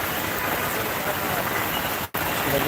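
Heavy rain pours steadily at the Mohakhali rail gate in Dhaka, a dense, even wash of noise that holds throughout, broken by one brief near-silent gap before resuming.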